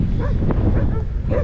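Stray dogs bark along a road in Sicily during a bicycle trip from Catania to Palermo: a few short barks and yips, partly buried under steady loud wind rumble.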